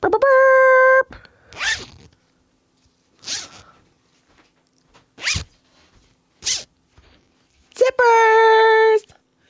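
Several quick zipper pulls ring out one after another in short bursts, separated by pauses, with a bright buzzing tone at the start and end.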